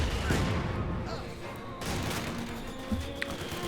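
Machine gun fire and scattered explosions from a Company of Heroes 2 match on the Rails and Metal map, rapid bursts and crashes in a dense battle mix, with a voice talking under the combat.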